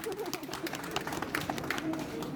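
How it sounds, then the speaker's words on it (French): Audience at a manga and gaming convention quiz applauds a contestant's correct answer, steady scattered clapping from a modest crowd in a hall, moderately quiet with murmured voices mixed in. "Allez, on l'applaudit, elle a trouvé la bonne réponse"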